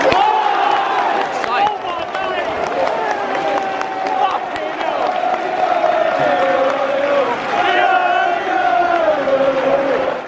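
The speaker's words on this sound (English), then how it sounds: "there's the Bolton fans that are cheering" Bolton football supporters in a stadium crowd cheering and chanting together, a loud sustained roar with rising voices and scattered clapping throughout.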